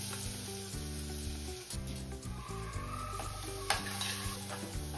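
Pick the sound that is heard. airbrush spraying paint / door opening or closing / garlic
garlic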